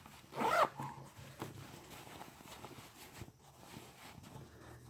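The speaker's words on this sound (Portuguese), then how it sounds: "agora eu só vou fechar o zíper pra eu ver como que tá" A zipper on a basic sewn skirt is pulled closed in one quick, close zip near the start, followed by quieter handling and rustling of the fabric.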